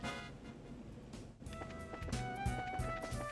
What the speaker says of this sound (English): I love that he gets a whole ass sparkle sound effect.